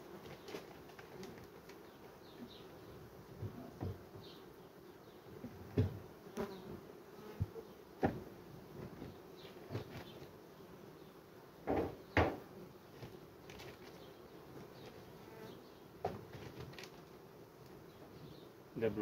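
Bees buzzing around beehives while frames are handled during hive work, a faint steady drone with scattered clicks and knocks of wood, close by.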